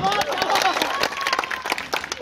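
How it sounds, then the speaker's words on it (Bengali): Audience clapping at a Bangla comedy show, crisp hand claps spread through the crowd with shouts and talk mixed in, loud and close. "জোরে তালি হবে, জোরে তালি"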